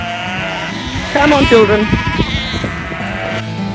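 Sheep and lambs bleat loudly nearby, overlapping calls that swell in the middle, while a person speaks briefly over them.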